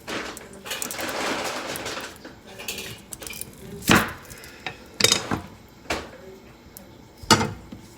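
A knife cuts through food, likely an onion, on a board in a home kitchen: several sharp, close chops and knocks ring out at irregular intervals over a faint background rustle.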